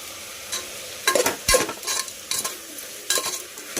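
Spoon stirring broad bean curry in a hot pan, with scraping strokes against the metal in uneven bursts over a steady low sizzle of frying.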